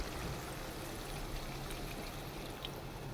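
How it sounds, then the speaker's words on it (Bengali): Water is poured into a pot of cooking chicken and onions, giving a steady, soft splashing trickle that runs continuously at a moderate level, heard close with no talk. "আমি মাংসের পেঁয়াজগুলো ভালোভাবে সিদ্ধ হওয়ার জন্য জল দিয়ে দিলাম"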